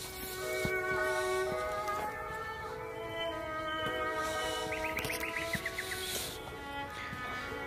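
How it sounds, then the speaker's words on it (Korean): Birds chirp and twitter at a spring azalea festival, repeated short calls over a steady bed of outdoor music and crowd murmur, with a brief trill of rapid notes partway through. "새소리가 나고 음악 소리가 들립니다"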